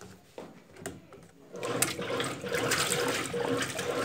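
A 1993 Brastemp Mondial BLL22 top-loading washing machine with a cracked, leaking tub: a few clicks and light knocks, then water rushes in and keeps gushing loudly and steadily for the rest of the clip.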